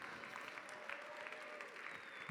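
At a charity celebration auction, an audience gives a round of applause for donors at the $15,000 level: a steady, fairly faint wash of clapping lasting a couple of seconds.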